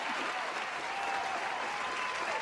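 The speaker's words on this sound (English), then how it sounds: "Let's give him a well-deserved round of applause as we bring him on." A studio audience claps steadily as a guest is brought on for a tribute show, a dense, even wash of applause with no speech over it.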